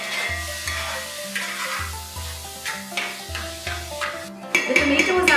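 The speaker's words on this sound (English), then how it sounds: "we're going to fry this mixture till the tomatoes are nice" A chopped tomato mixture for chicken keema biryani fries in a pan, a close hissing sizzle broken by regular stirring scrapes about twice a second, turning louder and brighter near the end, without speech.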